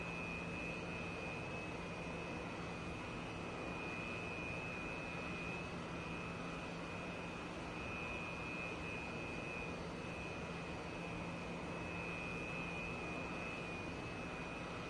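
A Su-27 jet taxiing in the DCS flight simulator holds a steady, even jet engine whine with a constant high tone over low rumble, unchanging and alone throughout.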